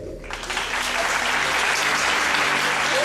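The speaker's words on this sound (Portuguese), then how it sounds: "Palmas pra..." An audience at a Brazilian film event, the I EMCINE, claps for participants, a full and steady round of applause that swells quickly after a brief quiet start and holds at a strong level.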